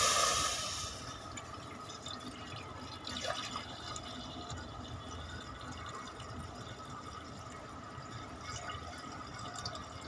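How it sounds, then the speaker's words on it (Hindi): Water pours into a cooking pot as the first step of boiling half a kilo of rice, a steady close trickle and splash that starts strong, eases, then runs on evenly with a brief surge partway through. "सबसे पहले चावल को उबालने के लिए पानी हम डालेंगे।"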